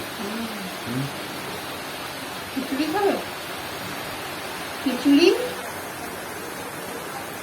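Constant hiss of monsoon rain falling outside a village home, steady in the background while two brief stretches of conversation rise over it.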